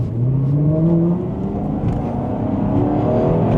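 An Alfa Romeo 8C's V8 engine drones steadily while driving, loud and continuous, with a rising and falling pitch as the revs shift through the gears; no voices over it.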